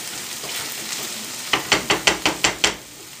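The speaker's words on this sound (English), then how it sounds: "I'll let that simmer a bit" Cashew chicken sauce sizzles steadily in a pan, then a spoon scrapes through it in about seven quick, even strokes before the stirring stops and a low simmer carries on.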